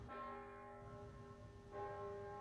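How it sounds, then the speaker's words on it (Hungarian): Church bells toll outside in the Hungarian countryside, a rich ringing tone sustained throughout with a second strike swelling in near the end, no voices present. "Odakint kongtak a harangok."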